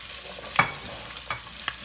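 Butternut squash, onions and sage cooking at low heat in a pan, with a faint sizzle broken by a few stirring scrapes, one sharper than the rest.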